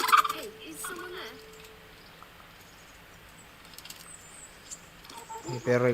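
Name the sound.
chickens in the video game Kingdom Come Deliverance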